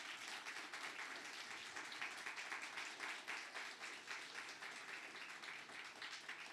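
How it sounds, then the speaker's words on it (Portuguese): Church congregation applauding mothers, a steady dense patter of many hands clapping at moderate distance, sustained evenly throughout without pause. "Vamos dar uma salva de palmas para essas mamães?"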